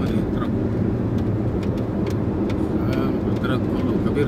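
Truck traffic on a toll road past warehouse areas, a steady low engine rumble and tire roar close by, with faint higher whines and brief clanks over the continuous drone.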